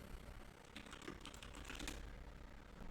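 Rapid clicking of computer keyboard keys being typed on, steady and close over a low hum, with no talking.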